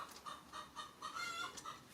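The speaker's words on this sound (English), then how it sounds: "The chicken's going nuts." A chicken clucks excitedly in a rapid, rhythmic series of sharp clucks, faint and somewhat distant, with no talk over it.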